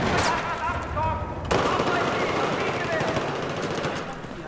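Battlefield 4 multiplayer battle with dense gunfire, bursts of automatic fire and scattered shots rattling continuously over game noise, with a player's voice talking over the combat.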